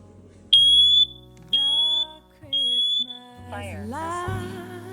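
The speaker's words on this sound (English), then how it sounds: "instead of just hearing a loud beep, which can be really confusing, honestly, the detector actually speaks to you" A home smoke detector sounds three loud, piercing electronic beeps in a row, each followed by a gap, then its recorded voice speaks an alert, all close and clear.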